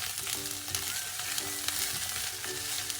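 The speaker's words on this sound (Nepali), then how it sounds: "मस्यौरा चाहिँ तेलमा यसरी भुटेन भने चाहिँ त्यति मिठो हुँदैन।" Soya chunks (masyaura) frying in oil with onion and chili, a steady broadband sizzle with occasional stirring scrapes, close and continuous with no talk.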